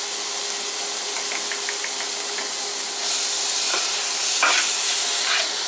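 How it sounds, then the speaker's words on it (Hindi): A creamy white sauce for pasta being stirred and whisked in a pan, a steady hiss with soft scraping strokes, louder and fuller in the second half, no voices. "इसे अच्छी तरह फेंट लीजिएगा सॉस को।"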